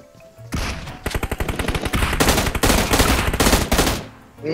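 Rapid bursts of video game gunfire in an Indonesian shooter match, loud and dense, with automatic fire crackling in quick repeated volleys for several seconds and a brief gap near the end.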